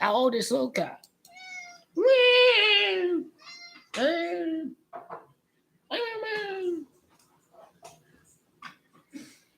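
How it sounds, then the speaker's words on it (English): A cat meows loudly several times close to the microphone, long drawn-out calls spaced a couple of seconds apart, with someone speaking briefly between them. "That's a cat behind me."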